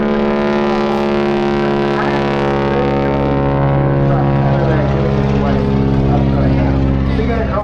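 Aircraft at the Eastbourne Airshow: a loud, sustained droning engine tone with steady harmonic hum, strong and continuous throughout, with a commentator talking over it.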